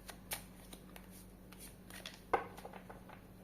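Soft, quiet shuffling of tarot cards: light papery riffles and taps at an irregular pace, with one sharper snap, close up and otherwise calm.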